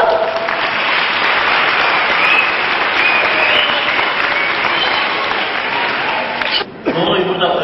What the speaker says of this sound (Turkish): alkışlayalım bakalım.